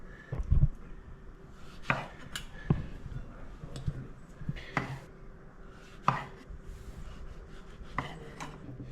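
Tomatoes being prepped with a knife on a cutting board make close, irregular chopping and tapping knocks, with soft scraping in between and no talking.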